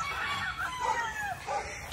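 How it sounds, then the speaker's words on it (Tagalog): A white claret gamefowl rooster crows, its call rising and falling in a couple of drawn-out phrases, close by and fairly clear against light background noise. "Titingnan natin yung mga manok"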